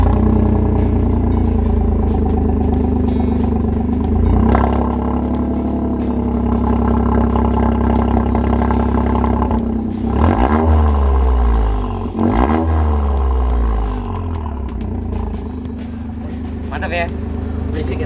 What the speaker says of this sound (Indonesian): coba kita dengerin knalpotnya